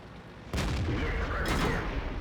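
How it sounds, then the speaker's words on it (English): A tank shell strikes and ricochets off a turret in a tank battle video game, a sudden heavy blast that booms and rumbles on for over a second after a near-silent start. "Fantastic ricochet off the turret."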